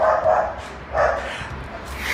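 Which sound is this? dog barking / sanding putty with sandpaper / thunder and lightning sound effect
dog barking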